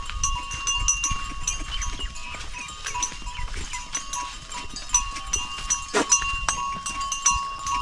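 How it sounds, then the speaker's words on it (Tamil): Cattle herded by hill tribal people move calmly along, with bells clinking and ringing irregularly, scattered animal calls and shuffling steps in an outdoor rural setting. "ஆனால் அங்கே பாருங்கள், அது பாட்டுக்கு மாடுகளாம் அமைதியாக வந்துட்டுருக்குங்க."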